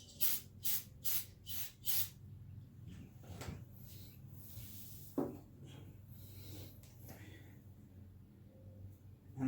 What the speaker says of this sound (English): So I'm just going to spray it very lightly.